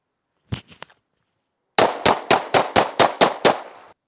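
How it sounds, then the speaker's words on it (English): Handgun shots fired during walking shooting practice: three quick shots, a short pause, then a rapid string of eight evenly spaced loud reports, close and sharp with no talk. "Try to practice on shooting while walking."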